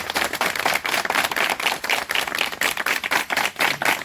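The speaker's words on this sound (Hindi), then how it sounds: "जोरदार ताली।" Audience at a theatre script-writing workshop claps steadily, a close, even patter of many hands in rhythmic bursts lasting several seconds without talk.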